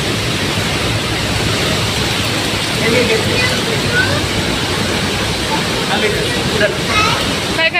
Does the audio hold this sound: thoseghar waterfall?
yes